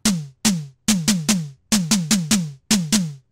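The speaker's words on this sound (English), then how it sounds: "Pretty nice snare sound for a digital snare" A digital snare drum voice from a 1985 Tama Techstar TS305 electronic drum brain, ten sharp synthetic hits with a pitched tonal body, played in uneven bursts, loud and clean with no talk.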